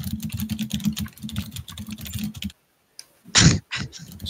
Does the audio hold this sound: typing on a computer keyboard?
yes